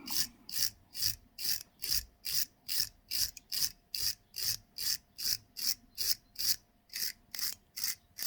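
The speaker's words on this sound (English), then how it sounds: "Let's give that a very ginger wire brush across the top" A wire brush scrubs across a Honda CB750 right-hand switchgear casing in quick, even back-and-forth strokes, about two per second, each a bright raspy scratch, close and moderately quiet with no talking.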